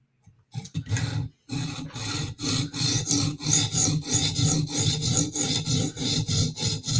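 A Spyderco Native knife blade scraped on a KME guided sharpener's stone in a steady series of rasping strokes, close and fairly loud, after a brief opening pause.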